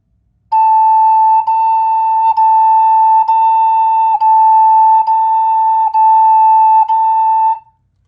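Native American flute held on one steady pitch, repeated as about eight long breath-tuned notes with brief tonguing breaks, close, loud and clean with nothing else audible.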